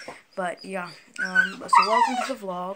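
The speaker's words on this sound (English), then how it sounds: "my grandma's dog is here" A dog at a grandmother's home whimpers and yips faintly in the background while a person speaks close to the microphone over it.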